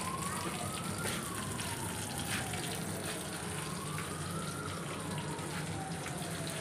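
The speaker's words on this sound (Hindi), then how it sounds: "ये ना मामा कबाब फ्राई कर रही हैं।" Kebabs fry in a pan in a home kitchen, giving a steady, close hiss and sizzle that runs without a break.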